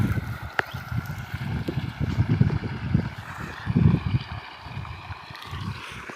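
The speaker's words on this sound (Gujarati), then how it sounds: "આ રીતે પાણીમાં મોટર ચાલુ કર્યું છે, આ રીતે ધોરી હાલ્યું છે પાણી" Pumped water gurgles and splashes along a field irrigation channel beside groundnut crops, a close, bubbling flow that swells and dips with light wind noise over the microphone.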